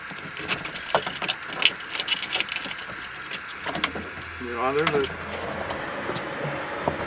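Keys jingle in short metallic bursts on a 1936 Ford Slant Back LS-1 steel resto-mod with a V8, some rattles loud and close, while people talk nearby and a low hum sets in toward the end.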